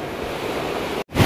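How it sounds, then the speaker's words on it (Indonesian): Big ocean waves crash and surge against a sea cliff along the Australian coast, a loud continuous roar of surf that cuts off briefly before another wave hits. "Ombaknya gede kali"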